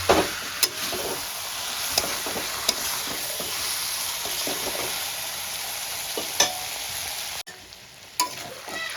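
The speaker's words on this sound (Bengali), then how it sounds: "এবার আমি ভালো করে কষাতে থাকবো" Chicken stir-fried with coriander powder and spices in a pan, a continuous close sizzle and frying hiss broken by sharp clacks of a spoon scraping and stirring at irregular intervals, with no talk.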